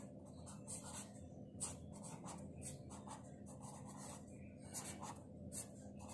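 Pen writing on paper during a geometric series math lesson, a soft continuous scratching with repeated short rasping strokes at close range, steady and faint throughout.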